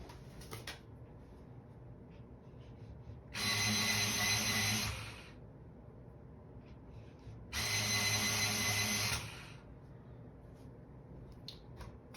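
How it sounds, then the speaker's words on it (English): An electric pencil sharpener grinds a pencil in two loud bursts of about two seconds each, separated by a short quiet pause, in a quiet room. "I'm gonna pop this in my electric sharpener and see how it sharpens"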